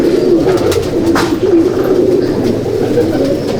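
A Malwai pigeon in a loft, with low, steady, continuous cooing filling the space at close range, layered with the soft murmur of several birds.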